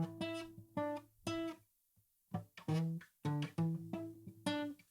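A guitar plays a classic funk bass line an octave up, a choppy run of plucked, sustained notes with short gaps and one clear pause midway, close and fairly loud with no talking.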